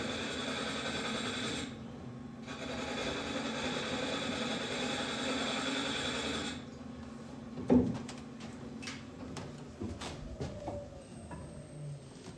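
A Japanese-style lathe turns end-grain wood as the tool slices, with a steady whirring drone that drops away. It is followed by a sharp knock and scattered light taps and scrapes.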